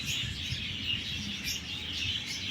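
Small caged birds chirp and tweet in quick, overlapping bursts over a steady background hum, sounding fairly close.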